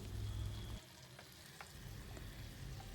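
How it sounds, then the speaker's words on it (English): A sweet and spicy sauce simmers and bubbles softly in a pan, a quiet continuous sizzle with a short lull partway through and a few faint stirring clicks. "We'll mix them well and we'll simmer until the sauce slightly thickens."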